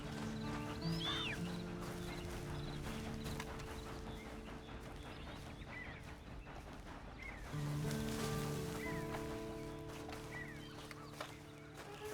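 A horse in Red Dead Redemption 2 Online whinnies twice over a steady hum and soft rustling ambience, with faint hoofbeats in the background.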